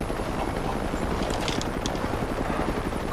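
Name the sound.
helicopter flying over in a movie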